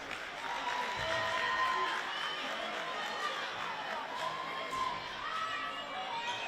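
Home crowd at a high school basketball game between Francis Parker and Carlsbad, a steady roar of cheering and shouting voices that holds throughout without a clear break.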